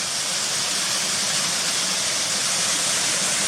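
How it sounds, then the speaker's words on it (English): Water of a small waterfall with a drop of around 15 to 18 feet splashing over rocks into a pool, a loud, continuous, even hissing roar heard close up with no voices. "That's quite a nice little waterfall, that."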